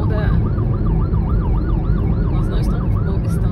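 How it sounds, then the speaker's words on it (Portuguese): An ambulance siren wails in a fast, repeating up-and-down pattern, loud and close, over rumbling traffic on the Rio-Niterói Bridge, Rio de Janeiro. "É uma ambulância"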